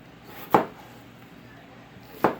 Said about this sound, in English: So I just want to cut them.